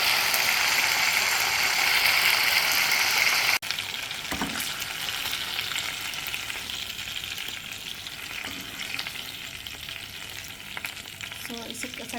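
Garlic, onion and ginger sauté in oil tinted by oyster sauce, first with a loud, dense sizzle, then a quieter crackle broken by scraping stirring strokes.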